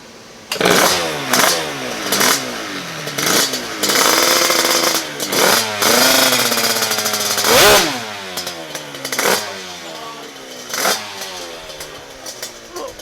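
A 200cc twin two-stroke scooter engine revs loud and close, its pitch repeatedly rising and falling in sharp, buzzing bursts as the throttle is blipped, with no talking.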